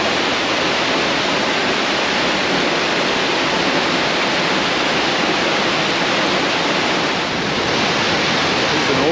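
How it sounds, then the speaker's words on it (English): Sailors Falls waterfall roars under a heavy flow of water, a loud, dense and unbroken rush of falling water that holds steady throughout. "It's an awesome amount of water coming down."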